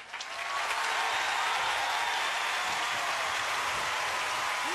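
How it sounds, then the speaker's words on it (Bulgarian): Studio audience at a televised impersonation show breaking into loud, sustained applause that swells within the first second and holds steady, dense and close, with no voices over it. "Аплодисменти, дами и господа!"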